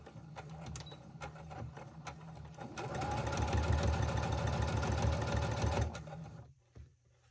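A sewing machine runs while stitching a patchwork pencil pouch at a quarter-inch seam, starting with light intermittent ticking and then a steady, louder mechanical hum for about three seconds before winding down.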